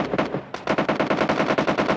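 Rapid automatic gunfire in the mobile shooter PUBG Mobile Lite rattles out in steady bursts of sharp shots, loud and continuous with a brief pause early on.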